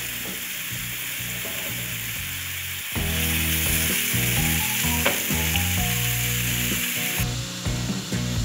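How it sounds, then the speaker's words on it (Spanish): Chopped onion sautéing in a little oil in a pan while pizza dough is being made, a steady close sizzle that grows louder partway through, with light scraping and stirring clicks and no talking. "Vamos a rehogar un poquito la cebolla."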